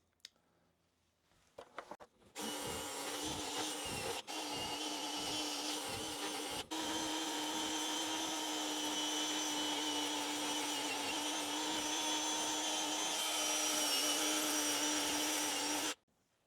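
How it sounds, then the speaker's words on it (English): A gouge cuts into a large cherry burl bowl spinning on a wood lathe, a steady, loud, continuous scraping roar lasting about fourteen seconds, briefly interrupted twice, with no talking. "I'm going to use this and other gouging devices to get this highlighted area on the outside of the bowl"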